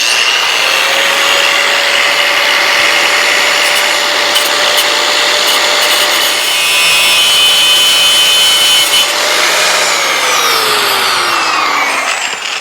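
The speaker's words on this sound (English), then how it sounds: "I've ground off the heads of the pins so that there's nothing holding the side plate on" Power grinder cutting off the pin heads of a Royal Enfield Interceptor GT 650 motorcycle chain, a loud continuous abrasive whine with a steady tone that drops in pitch near the end as the tool winds down.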